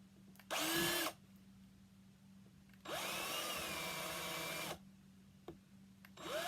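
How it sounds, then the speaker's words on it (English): A power drill whines up in two distinct bursts drilling a hole in a pre-drilled centerpiece base, a short one then a longer one, with a low steady hum underneath and quiet gaps between. "Before you drill the hole, this is a pre-drilled base."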